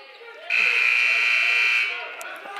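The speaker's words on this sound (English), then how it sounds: "Didn't touch rim, so you heard the shot clock violation buzzer" A shot clock violation buzzer sounds at a high school boys' varsity basketball game, a loud, flat electronic tone lasting over a second above crowd and gym noise.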